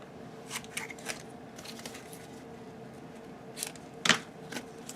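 Scissors trimming fabric album tabs, a handful of short crisp snips and small handling rustles spread unevenly, with one sharper cut near the end, all close and fairly quiet.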